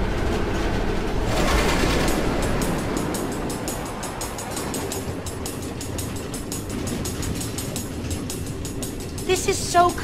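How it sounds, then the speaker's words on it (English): Rumbling clatter of a minecart train rolling along automated tracks through the Nether in Minecraft: Story Mode, steady rhythmic clicking under an excited voice. "Automated train tracks running all through the Nether, connecting all the different order members?"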